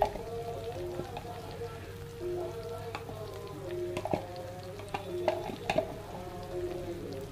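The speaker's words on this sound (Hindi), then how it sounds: "अच्छे से मिक्स कर लेते हैं।" Spices, including Kashmiri red chili, stirred in a frying pan while cooking rajma, giving a faint steady sizzle with soft scraping strokes of a spoon throughout.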